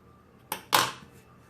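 Two quick scissor snips trimming hot-glued fabric on a bar stool seat, the second sharper and louder, close up in a quiet room.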